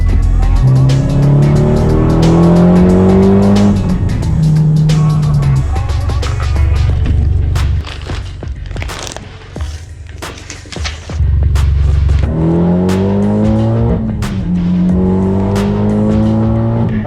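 A Mitsubishi Lancer Evo X with a new exhaust revs loudly and close, its engine climbing through rising pulls, easing off, then roaring up again with harsh bursts.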